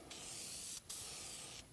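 Lacquer sprayed onto a guitar body in two steady hissing bursts, the second longer, with a short break between; close and fairly quiet, no voices.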